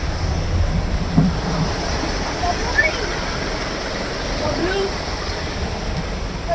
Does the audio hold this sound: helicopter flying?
no